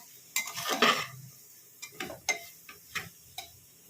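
Spices with Kashmiri red chilli stirred in a pan, a quiet run of scraping strokes and light metallic ticks of a spoon, irregular and close, with no talk.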